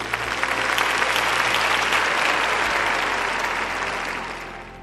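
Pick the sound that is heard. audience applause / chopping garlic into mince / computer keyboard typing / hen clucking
audience applause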